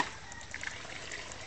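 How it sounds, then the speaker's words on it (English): Water is poured into a mixing container for a bamboo wattle and daub mix, a soft, quiet trickle and light splashing that stays faint and steady for a moment. "Add a little water in the mixing container"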